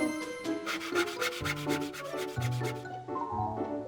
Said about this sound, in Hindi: लकड़ी काटने की आरी बन जाओ।